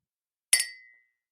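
Glasses clink once in a toast, a single bright, ringing chime that decays quickly into silence, close and clear with no voices.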